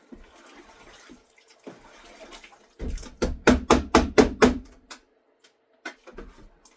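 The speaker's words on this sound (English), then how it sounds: "I added more hot water" Hot water is poured into a jug during pottery work, giving a short run of close, rhythmic glugging pulses that starts after a quiet stretch and then fades out.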